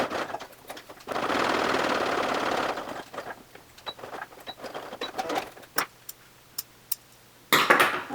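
Sewing machine stitching a belt guide onto a waist bag, a steady whirring run of about two seconds followed by scattered clicks and short handling taps, fairly quiet with no talking.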